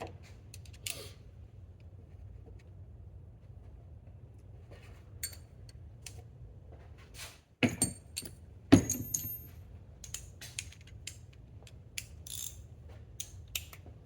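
A socket ratchet tightens 10mm bolts on a car's brake vacuum pump, giving soft quiet clicking and a few sharper metallic clacks over a faint background hum.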